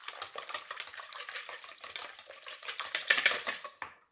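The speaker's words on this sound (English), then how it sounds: "Another quick whisk" A whisk clicks and scrapes rapidly against a bowl while buttermilk is mixed in for wholemeal scones, a close, quick irregular rattle with slight wet swishing, no talking.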